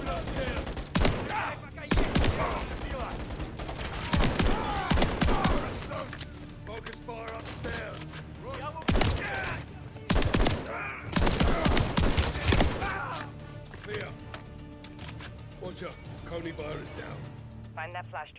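Heavy turret and rifle fire in the video game Call of Duty Modern Warfare III, with dense repeated bursts of loud gunshots and a voice talking over the shooting throughout.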